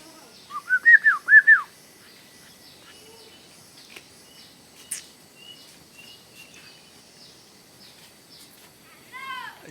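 A bird calling, with a quick burst of several rising-falling whistled notes near the start, then faint scattered chirps and another short whistled run at the end, fairly close with little background noise.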